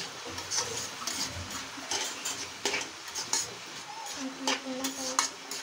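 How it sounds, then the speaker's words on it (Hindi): Cabbage, capsicum and beans stir-fry in oil for homemade chowmein, with a soft sizzle beneath repeated scraping and clinking of a spatula against the pan, irregular strokes close up. "वेजिटेबल्स में जैसे पत्ता गोभी है और शिमला मिर्च है बीन्स है इसको फ्राई कर रहे हैं अच्छे से ऑयल के साथ इसकी मिक्सिंग कर रहे हैं"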